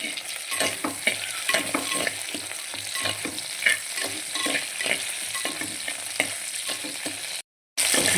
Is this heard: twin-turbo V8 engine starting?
no